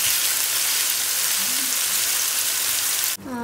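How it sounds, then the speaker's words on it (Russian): Loud, steady sizzling of minced pork and beef frying in a hot pan, continuous crackle throughout, ending with a brief clink near the end. "сейчас я обжариваю фарш, эту свинину и говядину"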